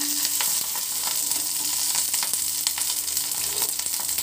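Curry leaves and tomatoes frying hard in a pan, a steady loud sizzle with scattered pops and faint stirring clicks, no voices.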